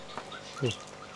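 Birds in a backyard aviary give a few faint, brief chirps and a short call, with quiet background noise and no clear talk.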